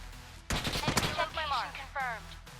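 Gunfire from the mobile battle royale game New State Mobile, a short burst of sharp shots breaking over quiet game ambience, with a voice speaking over and after the shots.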